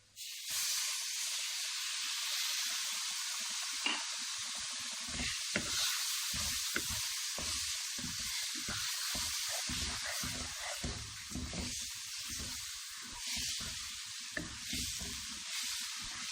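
Milk simmers with pieces of rice in a hot pan for a Multani rice halwa with coconut and raisins, a steady close hiss and sizzle running throughout, broken by low bubbling pops and brief stirring scrapes.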